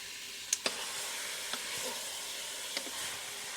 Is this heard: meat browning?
yes